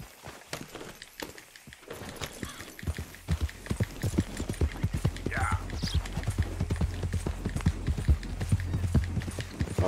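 Horse hooves clip-clop in a quick steady rhythm on a hard surface in the video game Red Dead Redemption 2, growing busier after a short lull, with a voice talking over the trotting.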